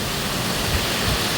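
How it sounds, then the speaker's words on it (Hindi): Heavy rain pours down at home, a dense, unbroken hiss of water filling the whole clip at steady loudness. "ताबड़तोड़ बारिश हो रही है।"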